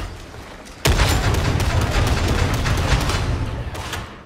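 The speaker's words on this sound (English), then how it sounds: "the Ripper Gun features more accurate rapid fire in either 3-shot bursts" Ripper Gun from Warhammer 40,000: Darktide firing in rapid full-auto, a dense, loud barrage of booming shots that starts abruptly and runs continuously for several seconds before tapering slightly.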